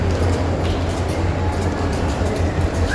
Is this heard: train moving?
yes